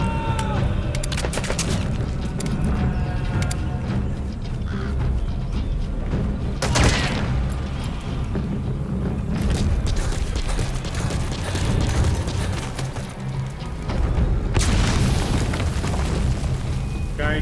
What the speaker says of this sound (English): Guy shooting grenades.